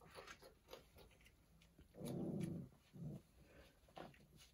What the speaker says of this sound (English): Eleven puppies, almost 6 weeks old.